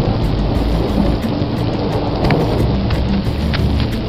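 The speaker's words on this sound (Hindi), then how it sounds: "यहाँ मौसम काफी खराब है, आकाश बादलों से ढका है और बारिश शुरू हो गई है।" Steady heavy rain falling in the Kalpa valley in the Himalayas, a dense loud hiss with occasional nearer drops and low rumbling underneath.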